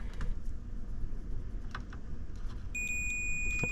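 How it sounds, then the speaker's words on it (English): A multimeter's steady continuity beep sounds near the end, high and continuous, while checking a wire on a 1981 Dodge D-150 truck, over a low background hum with a few faint clicks earlier. "I'm going to put my little device here into beep mode"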